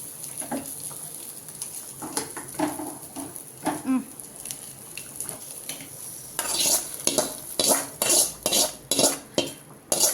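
Fried onions are tipped into a pot of Coimbatore-style kalyana sambar with a faint sizzle, then a spoon stirs and scrapes against the pot in loud, rhythmic clanks growing busier toward the end.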